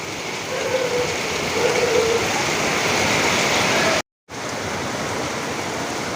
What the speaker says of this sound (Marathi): पाऊस सुरू झालेला आहे खूप मोठ्या प्रमाणामध्ये